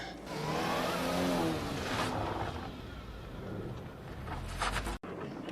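A vehicle drives across a farm field toward its far end, a steady close engine and tyre rumble swelling early and easing off, with a brief scrape and a sharp cut near the finish.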